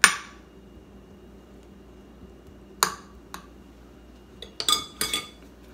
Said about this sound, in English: I'm using the back of my spoon just to go ahead and tap them in a little bit